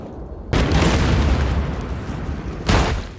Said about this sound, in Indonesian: di tengah hujan artileri yang terus menggelegar